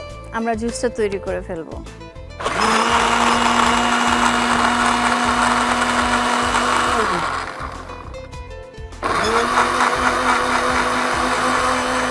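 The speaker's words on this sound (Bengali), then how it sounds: "ব্লেন্ডারটা অন করে দিব" A blender whirs loudly with papaya leaf juice, sugar and lemon, running in two long steady bursts separated by a short pause, with speech at the very start before the motor kicks in.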